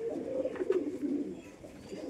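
A pair of Indian Giribaj pigeons give low, soft cooing close by, a continuous throaty murmur with slight swells in loudness.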